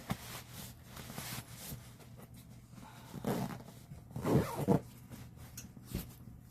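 A zipper on a sleeping bag's drawstring-cinched foot box runs in a few quick, close rasping pulls, with the strongest bursts late in the clip and no one talking.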